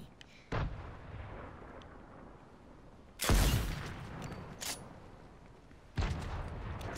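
Gunfire in Fortnite Creative: loud booming shot bursts hit three times, each trailing off into a rumbling decay, with no talk over them.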